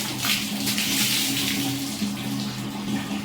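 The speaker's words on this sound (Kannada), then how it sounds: "ಸರಿಯಾಗಿ ನೀರು ಹಾಕ್ಕೊಂಡು ತೊಳ್ಕೊಳ್ಳೋಣ ಅಷ್ಟೇ" Water pours and splashes steadily to rinse a cleaned household surface that had been coated in algae and grime, a loud continuous gush with no talking.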